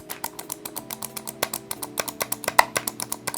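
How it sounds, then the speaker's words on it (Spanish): Rapid, crisp plastic computer mouse button clicks in a fast irregular stream, close and distinct. "El clic se puede escuchar, a ver."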